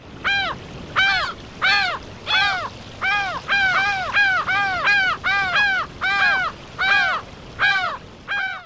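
Large gulls squawk in a rapid series of about fifteen harsh, raspy calls in quick succession, loud and close, with no talking underneath.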